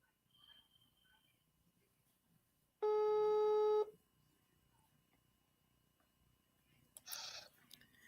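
A phone call's ringing tone sounds once as a single steady electronic beep of about one second, with quiet room noise before and after and a brief clatter later.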